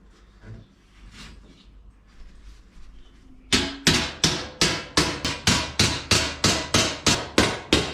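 Close, loud hammer blows fold over the edge of a 2.5 mm sheet-metal battery tray for a 1951 Chevrolet, about a dozen sharp strikes in a steady rhythm after a few quieter seconds of workshop noise.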